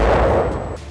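A TNT explosion blows up a World War II ship, heard as a single short, loud, deep blast that booms and fades within a second.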